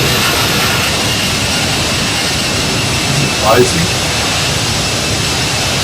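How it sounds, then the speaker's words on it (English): The Toliss A319's jet engines in X-Plane 12 give a loud, steady broadband roar throughout while a voice speaks briefly over it. "And the engine is rather loud, sorry about that."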